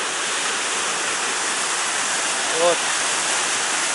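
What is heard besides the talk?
fast mountain river rushing down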